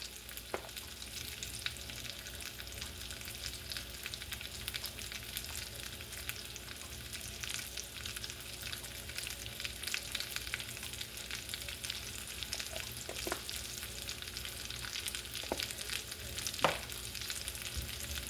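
Potatoes with onions and peppers fry on medium-high heat in a pan, giving a steady, dense sizzle with crackle throughout and a few faint clinks of stirring.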